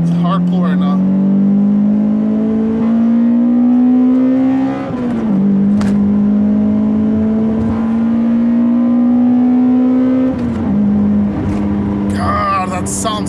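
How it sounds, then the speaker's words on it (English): A 2004 Toyota Celica GT-S automatic with an aftermarket intake and TRD muffler pulls hard, its loud engine rising steadily in pitch, dropping at a gear shift, then climbing again, heard from inside the car. "That engine intake and that TRD muffler."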